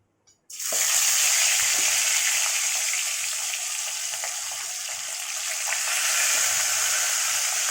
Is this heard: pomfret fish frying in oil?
yes